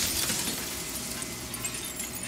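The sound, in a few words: mirror glass cracking into shards, video game Slay the Princess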